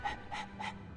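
Three distinct breathy huffs from a panting dog in a video game, evenly spaced and close, with a low hum underneath.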